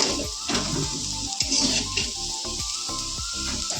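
Potatoes sizzle and fry in a pan in a home kitchen, a steady close crackle with faint clinks and scraping throughout, no voices.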